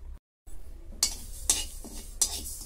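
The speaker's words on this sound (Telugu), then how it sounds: "1 స్పూన్ జీలకర్ర, 1 స్పూన్ ఆవాలు, 1 స్పూన్ చిన్నది మెంతులు వేసుకొని వేయించుకోవాలి" A spoonful each of cumin, mustard and fenugreek seeds dry-roasting in a pan for a mango and amla pickle, with a faint sizzle and a few bright metallic spoon clinks against the pan.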